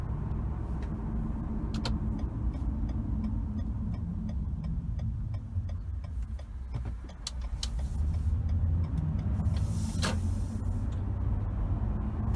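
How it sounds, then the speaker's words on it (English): A 2014 Toyota Avalon accelerating onto a main road, heard from inside the cabin as a low engine and road hum that swells slightly, with faint clicks and no talk. "I'll pull onto the main road and give it another acceleration"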